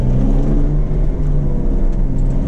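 Porsche 911 Carrera with 380 hp and BMW M4 with 430 hp in a drag race, a steady loud engine drone with a low rumbling tone, sustained without a clear rev change.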